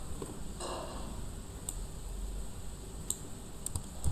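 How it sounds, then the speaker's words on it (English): Typing on a computer keyboard while a file is saved, heard as sparse, soft key clicks with a few sharper taps near the end over a steady low room hum. "So I am typing something like this."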